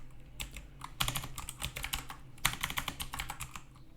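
Keys clatter steadily on a computer keyboard while text is entered during Java microservices setup, a quick irregular run of close, crisp clicks with a few louder bursts and no talking.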